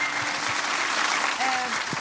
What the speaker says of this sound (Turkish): Alkış Umut'a.